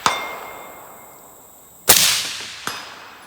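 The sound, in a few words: rifle shot report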